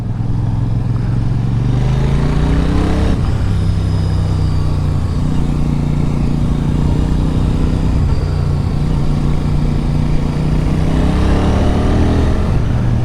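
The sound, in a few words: Royal Enfield Super Meteor 650 motorcycle engine revving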